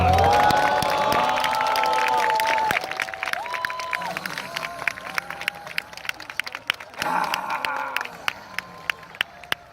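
A large outdoor crowd at a candlelight rally in a city square applauds and cheers loudly, then the sound breaks into scattered claps and shouts. A voice rises over it through a PA.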